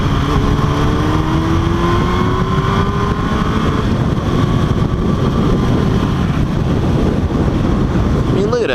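Motorcycle engine while riding and downshifting, a loud continuous drone with shifting pitch sweeping up and down under heavy wind rush.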